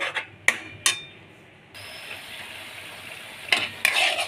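Onion-tomato paste and salt fry in a pan while paneer is being cooked, with sharp spoon clacks against the metal followed by a steady sizzle and more scraping stirs toward the end.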